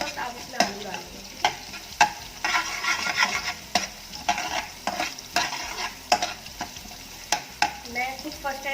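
Onions fry in a pan while a spoon scrapes and stirs in repeated strokes, a steady close sizzle under sharp scraping clicks, with no voices.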